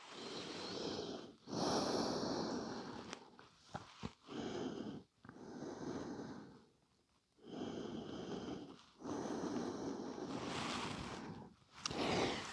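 Slow, deep breaths during a seated forward-bend yoga pose (paschimottanasana), a series of soft, close inhales and exhales with brief pauses between them and no talking.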